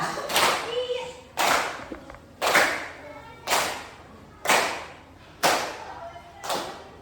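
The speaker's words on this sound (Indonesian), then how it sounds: "tepuk, diam, tepuk, diam, tepuk, diam, tepuk, diam" A classroom of children claps a rhythm pattern, clap then pause, seven loud group claps arriving about once per second with quiet gaps between, faint voices in the background.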